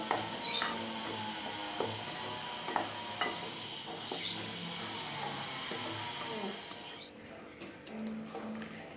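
A pot of cooked chana dal melted into jaggery with cardamom, simmering while a spoon scrapes and stirs it, producing irregular clinks and soft bubbling that grow quieter near the end.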